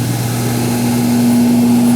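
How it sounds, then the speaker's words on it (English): A simple air blower at a Ripley's Believe It or Not! museum exhibit in Grand Prairie, Texas, keeping balls floating. It gives a steady, close, continuous hum with a strong low tone and broadband rush, unbroken for the whole stretch. "We got a simple blower kind of thing here."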